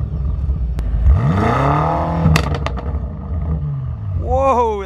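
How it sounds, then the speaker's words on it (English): BMW M5 First Edition with a twin-turbocharged V8, revved hard with a rising then falling engine note and sharp pops, loud and close, with voices speaking over it near the end. "Let's see how this twin turbocharged V8 sounds."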